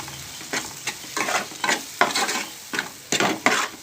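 Ground coriander and cumin powder fries in a pan with bursts of sizzling and a spoon stirring and scraping in quick, uneven strokes, close up.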